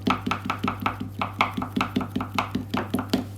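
A knife slices through fondant on a table in a steady run of about fifteen evenly spaced, soft thudding cuts, close and clear, each with a brief sticky drag.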